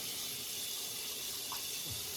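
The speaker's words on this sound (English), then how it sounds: "let me go ahead and get the face wet" Tap water running steadily into a sink while a face is wetted before a shave with a vintage Gem Micromatic razor, a constant close hiss and splash with a faint splash of hands in the stream.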